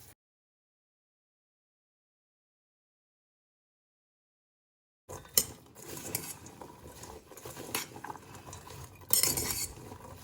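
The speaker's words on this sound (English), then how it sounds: "In a large bowl, I am going to mix my little cubes of squash and all my slices of onions" Squash cubes and onion slices tossed and mixed in a large bowl, clattering and scraping sounds after five seconds of silence, with irregular bursts close up.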